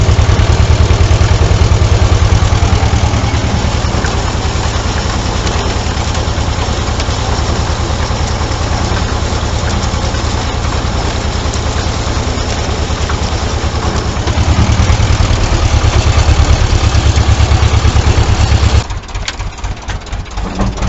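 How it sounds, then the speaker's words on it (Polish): A tractor's diesel engine runs loud and close at a steady 1200 rpm, chugging evenly while hitched to a belt rake, then briefly dips near the end. "na pewno słyszycie, ciągnik pracuje na 1200"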